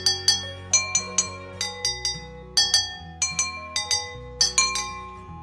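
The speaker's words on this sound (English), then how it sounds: "this is the way that we're gonna be able to tap against the glass and make sounds with" Spoons tapping against water-filled drinking glasses ring out in bright, bell-like clinks, a steady rhythmic run of about twenty strikes at varied pitches like a simple tune, each note ringing briefly before the next.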